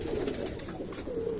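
Low pigeon coos roll out in a short, steady murmur, faint but clear against the surrounding noise.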